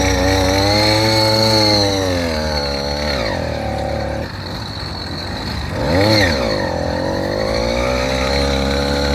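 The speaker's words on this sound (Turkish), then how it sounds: "şu an motorla uğraşıyor çalıştırmaya" A motorized bicycle's small engine is being started on a roadside during a long ride. It runs loud and close with a buzzy drone, revving up and down in two distinct swells.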